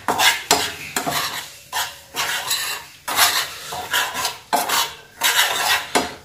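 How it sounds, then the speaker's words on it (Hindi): A utensil stirring homemade puppy cerelac in a pan on the stove, with repeated rhythmic scraping strokes against the pan bottom, loud and close with no talking. "और उसे हिला देंगे इसे जले ना।"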